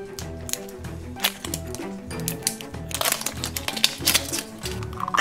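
A Minnie Mouse Chupa Chups package being opened by hand, with rapid crinkling, tearing and clicking of plastic over a steady low background hum, growing busier toward the end.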